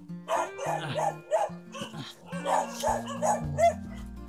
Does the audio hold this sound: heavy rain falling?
no